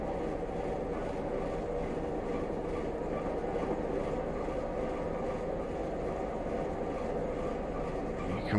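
A Class 101 diesel multiple unit in Train Simulator Classic runs along steadily, its low rumbling drone and rail noise holding at an even level throughout.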